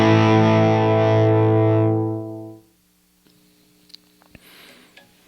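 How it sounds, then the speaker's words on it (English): A heavily overdriven electric guitar chord rings out loud and buzzy, sustains, then fades, followed by quiet clicks and faint handling noise. "I'm going to have more distortion now,"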